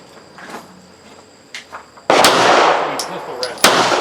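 A Smith & Wesson 659 9mm pistol fires outdoors: a sudden loud crack at about two seconds with a lingering ringing tail, then a second sharp report near the end, after some faint background noise and scuffling.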